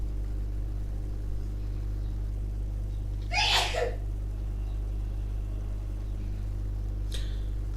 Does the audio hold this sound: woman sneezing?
yes